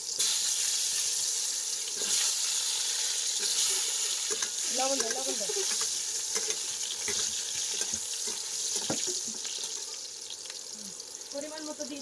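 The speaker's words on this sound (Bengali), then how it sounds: "আলু ভাজি বেশি করে তেল দাও" Potatoes frying in oil in a home kitchen pan, a steady broadband sizzle running the whole time with occasional stirring scrapes, while people talk over it nearby.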